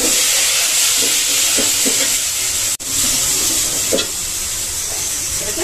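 Dried chillies, shallots and garlic fry in hot oil with a loud, steady close-up hiss and occasional light clicks. The sound breaks off for an instant near the middle.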